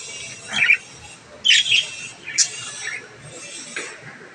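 Lutino budgerigars squawking and chirping in short sharp bursts, a few separate calls spaced across a quiet room, close by, with no talk.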